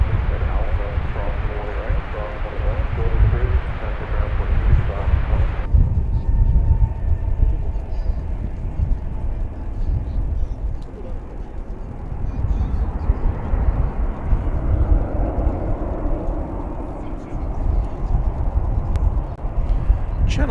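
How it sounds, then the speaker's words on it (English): An American Airlines Boeing 777-200 inbound from Paris lands at DFW Airport, its jet roar a broad steady rumble heard from a distance, with wind buffeting and a voice talking over part of it. "This is American Flight 49 coming in from Charles de Gaulle Airport in Paris."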